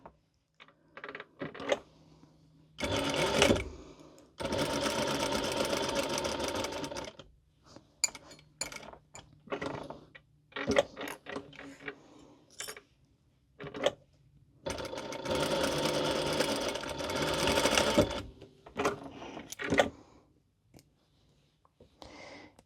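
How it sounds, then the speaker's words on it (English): A sewing machine stitches a seam on a cat bandana, with several bursts of rapid mechanical whirring separated by pauses, short clicks and fabric handling, close and moderately loud. "We're gonna sew from here down, pivot, and sew up."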